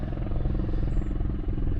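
A helicopter's steady, droning rotor thrum, loud and continuous, with a low rumbling engine throughout, as it flies overhead during a wildfire on Otay Mountain near San Diego.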